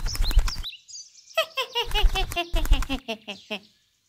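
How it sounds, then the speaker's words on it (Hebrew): A cartoon bird in a Hebrew children's animated story chirps and tweets in rapid, bright bursts, close and fairly loud, mixed with short choppy sounds and brief silences. "אוי, ציפור מזיקה."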